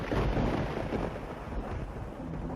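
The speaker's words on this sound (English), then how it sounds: "The storm is coming." Thunderstorm rumbling in the video game Downfall, a steady low broadband roar of thunder and rain that stays loud and dense throughout, with no voices.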